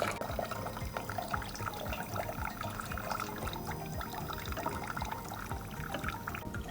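Dirty water pours steadily from the nozzle of a softy ice cream machine, a continuous close splashing and trickling stream that holds for the whole stretch with no talk.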